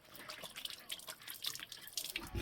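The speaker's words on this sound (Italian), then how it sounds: "ci metto l'acqua" Cold water poured into flour in a bowl for zucchini flower fritter batter, trickling and dripping close by in a light, uneven patter, with no talk.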